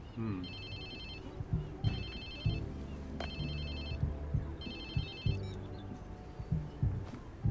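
A phone rings in the Watch Dogs 2 video game, sounding in four repeated bursts over a steady low rumble of game ambience and music.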